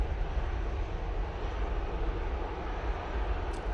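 Airliner departing Manchester Airport, bound for Athens, a faint, distant, steady jet rumble and hiss with no voices.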